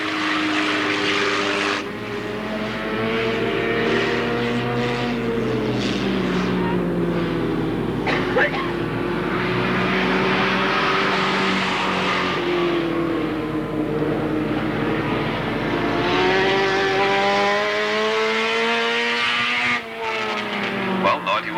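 Racing cars lap the Alwalton Raceway circuit in 1983, engines rising and falling as they come past the pit bend one after another, loud and continuous, with a commentator's voice over them.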